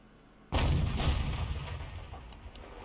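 A single loud artillery blast from a leFH18B2 self-propelled howitzer in a video game, a sharp close boom followed by a long rumbling decay, no talking.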